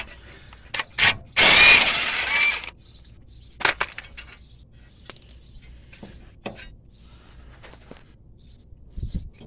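On a Ford Crown Victoria's front suspension, a power tool frees the tie rod in one loud, close burst of buzzing, grinding noise lasting about a second. Quiet clanks and taps of work follow.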